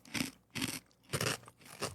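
Wheat Chex cereal crunched between the teeth, four loud, close, evenly spaced crunchy bites, each a dense burst of crackling with short pauses between.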